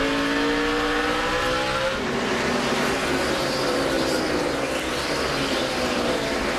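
NASCAR stock cars roar past on the oval track at the 2008 Chevy Rock & Roll 400, a loud continuous engine wash with a pitch sweep as cars pass, under crowd noise.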